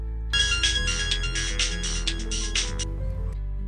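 A phone rings with an incoming call, playing a melodic electronic ringtone loudly and clearly for about two and a half seconds before it stops, with no talking.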